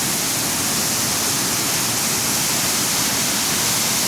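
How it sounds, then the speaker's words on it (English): Sol Duck Falls roars in a loud, steady hiss of falling water, unbroken from start to finish. "one of the more unique waterfalls I saw last year"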